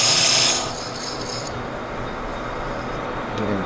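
A lathe machines a bronze gland, giving a steady rasping scrape of the cutting tool that stays close and continuous throughout.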